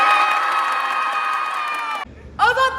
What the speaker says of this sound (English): Remember, every cheer is 3 times.